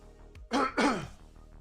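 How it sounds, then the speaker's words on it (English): One person gives two rough, forceful throat-clearing coughs in quick succession, close and loud, with quiet between them and after. "That cough is happening because I'm projecting too much."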